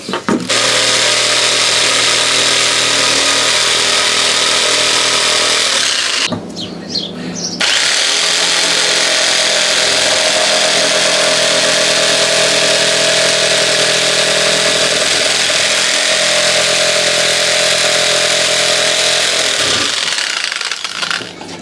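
A jigsaw cuts through a piece of wood with a loud, steady buzzing whine. It stops briefly partway through, then runs on continuously until near the end.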